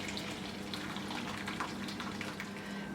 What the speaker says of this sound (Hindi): अब आप बीच में ऐड करेंगे जो कि है गर्म पानी